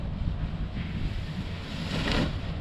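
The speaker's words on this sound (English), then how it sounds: "Good wind now." Wind rushing past the microphone at a paragliding site during ground handling, a steady low buffeting roar that swells slightly toward the end, with no talking.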